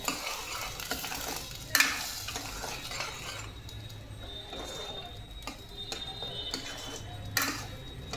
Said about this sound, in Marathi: व्यवस्थित परतून घ्यायची याला